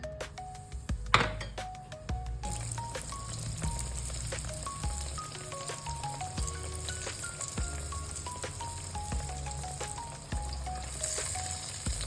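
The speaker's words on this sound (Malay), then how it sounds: "So kita goreng." Battered eggplant frying in hot oil, a steady crackling sizzle throughout with a gentle melody playing in the background.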